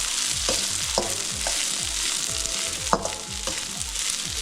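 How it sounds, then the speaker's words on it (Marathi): Sago and crushed peanut powder fry in hot oil with steady sizzling, while a spoon stirs and scrapes the pan in a regular rhythm with a few sharper knocks. "तेल तापायला ठेवले, त्याच्यात साबुदाणा, शेंगदाण्याचं कूट आणि मिक्स केलेलं ह्याच्यात"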